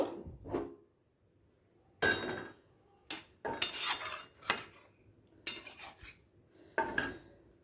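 Metal spoon clanks and scrapes against pots as chickpea and minced chicken curry topped with kasuri methi is moved into another pot, in a few separate bursts with short quiet gaps, close and fairly soft.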